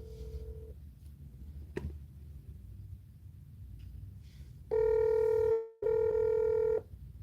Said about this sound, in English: Alright, let me call back Uncle Roy.